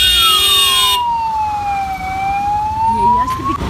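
A loud ambulance siren wails at a road accident scene, its long tone sweeping slowly down and back up in one continuous glide, close by with traffic rumble underneath.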